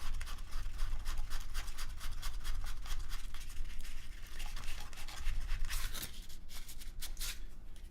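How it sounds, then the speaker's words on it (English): Sandpaper rubs over Super Sculpey polymer clay in quick, faint scratchy back-and-forth strokes, close up and steady over several seconds with no talking. "we can actually just hit it with a little bit of sandpaper"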